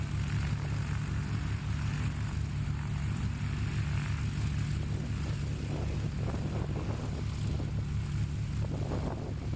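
A light sport STOL aircraft's propeller engine drones steadily at a fixed pitch, with wind rushing over the microphone and no voices.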